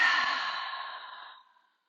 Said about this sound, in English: So let's take a cleansing breath in through the nose and exhale through the mouth.